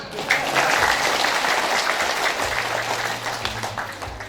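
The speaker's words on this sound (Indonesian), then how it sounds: "Mohon tepuk tangan." An audience at an outdoor mosque study gathering breaks into loud, sustained applause, a dense wash of many hands clapping at once that holds steady throughout.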